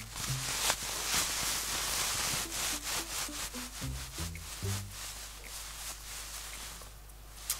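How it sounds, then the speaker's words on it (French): Close, continuous rustling and rubbing of the waterproof polyester-like layer of menstrual underwear, with scratchy friction that swells and fades in short strokes throughout. "Je vais vous faire écouter, on va faire un bruit de culotte."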